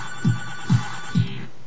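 A telephone rings in three short, evenly spaced pulses, close and clear, with a buzzing electronic tone.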